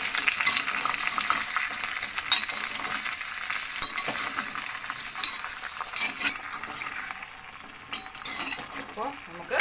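Vegetable pieces for theeyal, a Kerala curry, sizzle and fry in a hot pan while a spoon stirs and scrapes them, with occasional metal clinks throughout.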